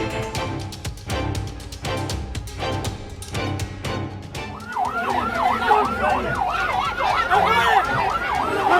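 An ambulance carrying an emergency patient moves along a carnival route in Indonesia. Steady drum beats come first, then a loud wailing siren rises and cycles repeatedly, close by and growing more prominent.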